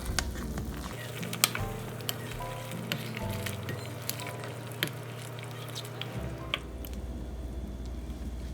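Pork adobo bubbles and sizzles in a pot at a boil, a soft steady crackle broken by scattered pops and a low hum underneath.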